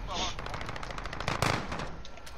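Rapid automatic gunfire in a first-person multiplayer shooter video game runs throughout as a fast, close, rattling stream of shots, with a louder burst midway and some speech-like sound mixed in.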